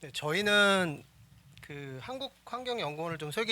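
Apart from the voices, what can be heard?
No distinct noise like a dog, phone or traffic.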